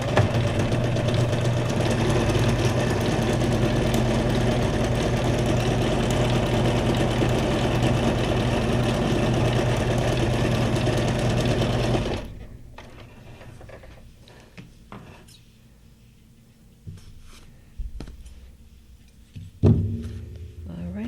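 A sewing machine stitches fabric junk journal tags with a loud, fast, steady mechanical whirr for about twelve seconds, then stops, followed by faint handling clicks and rustles.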